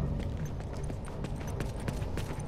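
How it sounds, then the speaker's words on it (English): Faint, rapid clip-clop of horse hooves patters steadily against a busy, noisy background, with no voices heard. "I hear the fucking horse behind you"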